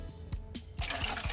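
Tap water poured into a shake container for a chocolate and berry protein shake, a close splashing, trickling pour that starts softly and grows fuller toward the end, with no talking.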